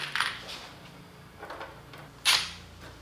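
Loose metal screws clink and rattle as a handful is scooped up during a garage bookshelf build, a few short bright jingles with the loudest near the end, close by and with no talk.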